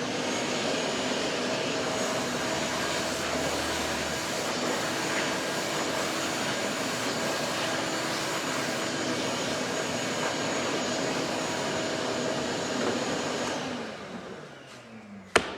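A vacuum with a brush attachment runs loud and steady, sucking sanding dust off cabinets before they are painted, its broadband whine holding for about thirteen seconds before it is switched off and winds down.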